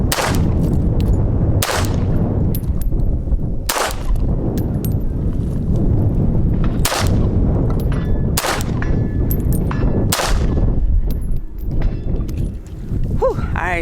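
A .380 pistol fires about seven loud, close shots at irregular intervals of a second or two against an outdoor background, until the magazine runs empty.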